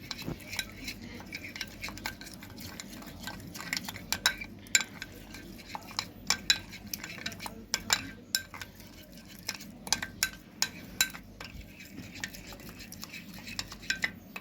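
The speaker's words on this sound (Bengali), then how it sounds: "এবার এটা পুরোটাকে ভালো করে ফেটিয়ে নিতে হবে।" Yogurt and sugar being whisked together in a bowl for a cold summer drink, a steady run of quick, close scraping and clinking strokes against the bowl, fairly quiet with no talking.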